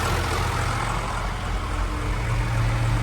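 A John Deere 3650 tractor engine idling in good condition, an even, continuous low diesel rumble close by with no talk over it.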